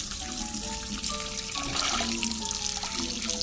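Water runs from a tap in a steady, close stream while rinsing a crab, splashing and trickling continuously with faint tonal ringing from the sink.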